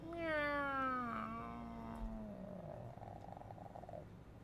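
A person imitating a cat, giving a drawn-out meow with a falling pitch that trails into a softer purring rasp, close and fairly quiet, with no other talk.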